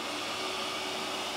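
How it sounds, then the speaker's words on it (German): A vacuum cleaner runs steadily in a studio, a constant close whooshing hiss with a faint tonal whine and no variation across the brief stretch. "Jeder Staubsauger hat ja einen eigenen Sound."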